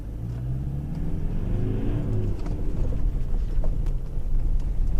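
A 2017 Toyota Hilux 2.4 D-4D pickup accelerates in four-wheel drive on open sand, its diesel engine a loud, steady rumble that rises as it revs, with no voices over it.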